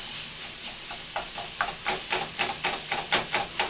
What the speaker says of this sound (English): I'm going to break up the chopped meat and have that incorporate with the caramelized onions and the Worcestershire sauce